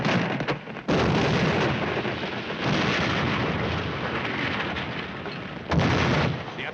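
Heavy artillery fire in a war film, booming in loud, sustained blasts and rumbling shell bursts that fill the whole stretch, with a brief lull near the start and another sharp burst toward the end.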